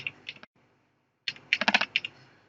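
Keys tapped on a computer keyboard while a captcha code is entered, a few quick clicks, a pause, then a denser burst of close, crisp keystrokes.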